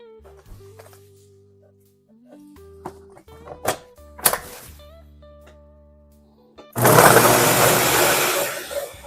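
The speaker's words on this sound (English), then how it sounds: "I'm going to blend this smooth" A blender whirs into a loud, steady roar as it purees homemade RumChata ingredients with whole cinnamon sticks, preceded by a few seconds of clunks, clicks and handling noises.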